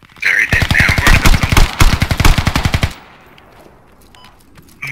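Loud, close automatic gunfire blasts in the Squad video game, a sustained rapid string of shots lasting about three seconds before cutting off to quiet ambience, with a voice briefly over the start.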